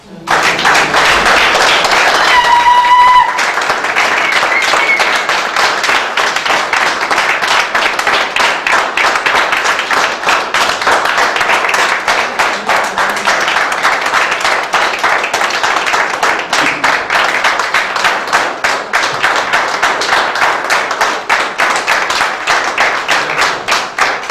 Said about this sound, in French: comme vous avez applaudi